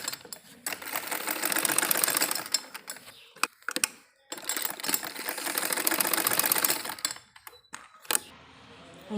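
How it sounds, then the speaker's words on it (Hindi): A sewing machine stitches a palazzo onto a waistband belt in rapid mechanical bursts, running steadily for a couple of seconds, pausing briefly, then running again, close and clear. "8-10 सिलाइयों से भी ज़्यादा हमने इसको लगा लिया है।"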